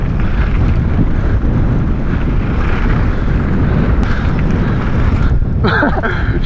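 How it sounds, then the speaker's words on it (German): Strong gusty wind buffeting the microphone at a mountain bike park in Livigno, a loud continuous rumbling roar with no break, and no voices heard. "Bisschen windig ist es schon, ne?"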